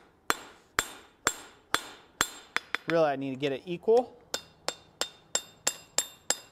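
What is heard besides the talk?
hammer forging hot steel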